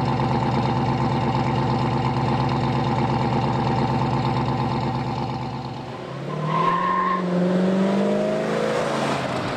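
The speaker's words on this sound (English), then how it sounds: "here is some sound of how that sweet 289 cubic inch Hypo V8" A 289 cubic inch Hypo V8 runs with a loud, close, rumbling burble, then dips briefly before revving and rising in pitch, with a throaty muscle-car exhaust and no talking.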